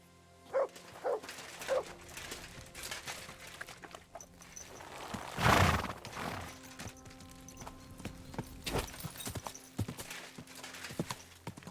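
Horse hooves clip-clop on the ground in the medieval game Kingdom Come: Deliverance 2, a few uneven steps with one louder burst of movement midway and faint background noise.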